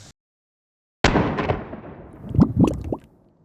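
.22 Long Rifle shot fired into a human shield target: a single sharp report after a moment of silence, followed by a decaying echo and a few brief thuds or pops.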